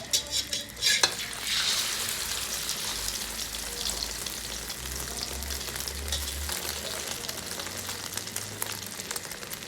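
An egg sizzles and spits in a hot pan, a close, continuous frying crackle with a few sharp clinks of utensil against the pan at the start and no talking.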